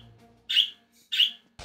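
Birds chirp outdoors in two bright, short bursts about half a second apart, fairly close and clear, with a quiet background between calls.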